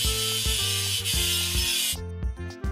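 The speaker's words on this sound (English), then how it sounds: "Let's paint over the discoloration." Spray paint hissing over rusty discoloration in a video game, a steady bright hiss in bursts with short mechanical clicks and ratcheting sounds between passes, with background music underneath.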